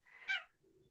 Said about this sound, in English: when she meowed at first